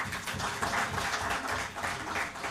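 Applause welcoming an award recipient at a tourism conclave, a steady wash of clapping from a crowd held at a moderate level through the whole stretch, without talk.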